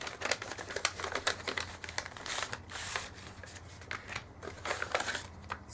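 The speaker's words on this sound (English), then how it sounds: "Okay, so I'm gonna open this up, and then you can reuse this packaging." Crinkly packaging is handled and torn open close by, with dense rustling, crackling and paper-like scrapes in quick bursts throughout, then a short pause before more rustling.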